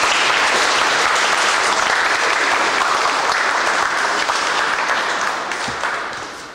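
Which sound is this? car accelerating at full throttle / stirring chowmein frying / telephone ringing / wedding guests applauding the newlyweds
wedding guests applauding the newlyweds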